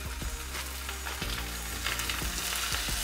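Loud, steady sizzling of steaks searing in a hot pan without added oil, with a few soft clanks and shifts over the constant crackle.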